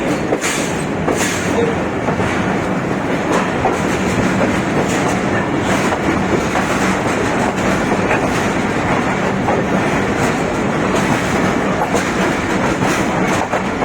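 The Tezgam Express passenger train runs along the rails between Multan and Lahore, a loud, continuous rumble inside the carriage with steady clickety-clack beats from the wheels and no talking.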